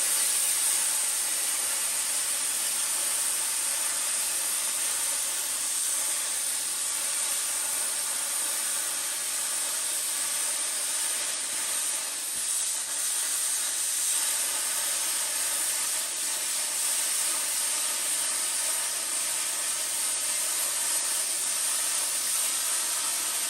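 Bestarc plasma cutter slicing through metal makes an unbroken, harsh hiss, steady and close for over twenty seconds with no talk.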